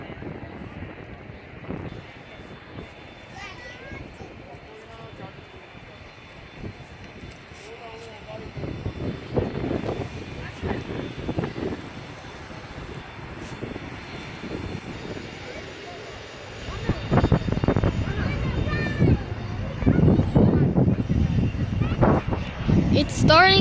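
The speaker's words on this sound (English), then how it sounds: "It's called taxiing the runway." A propeller airplane taxiing along the runway at an airshow, its engine drone growing louder toward the end amid wind noise, with people talking over it.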